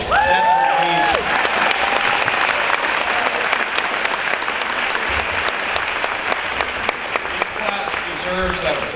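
A graduation audience applauds throughout, dense sustained clapping from a large crowd, with a voice speaking over it at the start and near the end.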